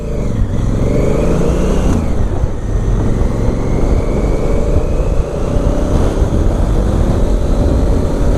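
A 2017 Honda Africa Twin motorcycle engine is running close by with a loud, continuous rumble that rises in pitch as it is revved, then settles and climbs again.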